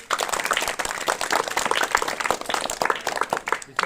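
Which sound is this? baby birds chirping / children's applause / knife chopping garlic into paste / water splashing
children's applause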